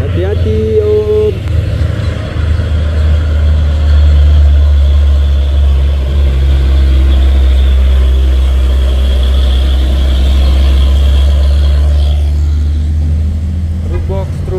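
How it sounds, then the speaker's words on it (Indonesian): A Hino box truck with a diesel engine passes on a hill road during heavy holiday return traffic, its deep engine drone loud and close and holding steady before easing near the end. "Truk box, truk Hino."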